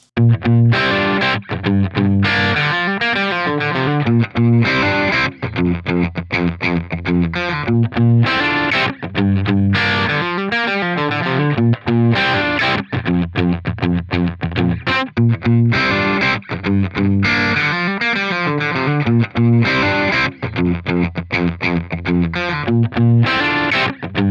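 Heavy distorted electric guitar riffs through Helix Native and Amplitube 5 amp simulators, loud and continuous with chugging chords and ringing notes, playing alone throughout.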